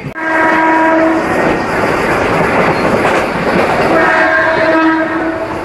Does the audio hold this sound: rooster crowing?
no